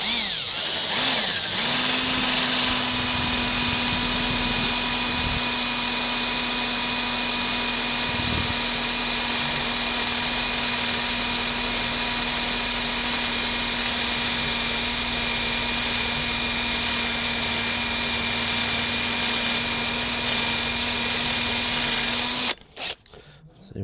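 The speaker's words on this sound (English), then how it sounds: "pilot hole first, and then go with a larger drill bit" A power drill whines at a steady high pitch for about twenty seconds while boring a pilot hole, then stops abruptly.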